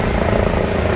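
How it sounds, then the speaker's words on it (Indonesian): A helicopter circles overhead above Muzdalifah at night, a loud, steady rotor and engine roar filling the air without a break. "Di atas kita juga terdengar helikopter yang"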